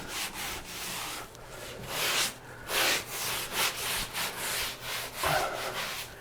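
A drywall blade or trowel scrapes and rubs over a patched wall, blending fresh texture into the old finish in repeated close, gritty strokes with short pauses between passes.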